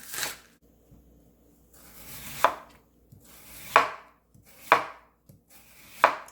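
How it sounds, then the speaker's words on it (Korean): A knife slices green onions into roughly 1 cm pieces on a cutting board: five crisp chops spaced about a second apart, each with a soft crunch before the blade hits the board. "쪽파 썰어줄게요 한 1cm 정도 되게끔 썰어주세요"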